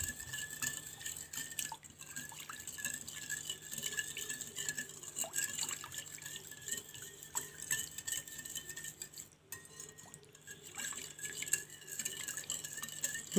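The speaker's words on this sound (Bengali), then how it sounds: "এখন এটাকে সুন্দর করে মিশিয়ে নিতে হবে" Sugar being stirred into donut batter in a bowl, a soft repeated scraping and clinking of a utensil against the dish, quiet and steady throughout with no talking.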